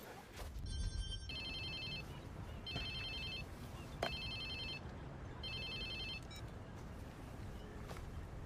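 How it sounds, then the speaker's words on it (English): A mobile phone rings in the video game Watch Dogs 2, sounding as a series of repeated bright electronic chime bursts over a steady background hum of game ambience, with no talking during the ringing. "Whose phone is this? It's your new phone."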